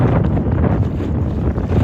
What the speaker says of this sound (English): It is windier out here too, because there is a storm coming.